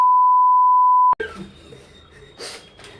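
A single steady censor beep tone sounds clearly for about a second, alone, then stops abruptly; faint talk and background noise follow at a party among friends.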